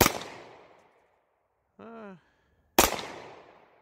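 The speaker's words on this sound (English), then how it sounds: "Let's fire a couple more in single action here." Two single-action shots from a Taurus TH9 pistol, each a sharp loud crack with a decaying tail, about three seconds apart, with a brief voiced sound between them.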